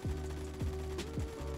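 AKM rifle fitted with a stubby grip firing in the video game Phantom Forces: three or four loud, evenly spaced single shots, each with a sharp crack and descending low-pitched tail, close and dry with no talk.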